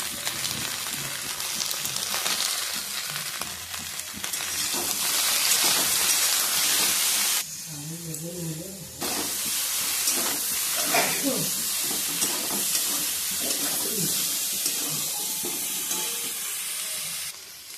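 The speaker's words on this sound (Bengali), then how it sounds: "তারপর একটু নুন হলুদ দিয়ে সবজিগুলো ভেজে নিতে হবে।" Beans and eggplant frying in mustard oil with green chillies, salt and turmeric, giving a loud, continuous hissing sizzle for the whole stretch, with a brief pause near the middle and faint voice traces underneath.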